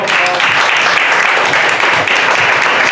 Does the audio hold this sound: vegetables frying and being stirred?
no